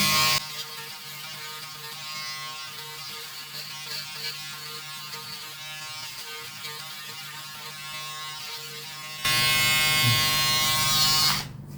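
A Braun Series 5 electric shaver runs close and steady with a continuous buzzing hum, then shifts to a louder, harsher drone for the last couple of seconds, with no talking.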